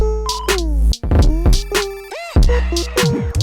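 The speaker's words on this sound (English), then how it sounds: "So you can hear that little bass roll." A deep synthesizer bass plays a quick rolling run of notes, sliding and bouncing in a short, punchy phrase with no voices, from a score for a Nike ad made in Ableton.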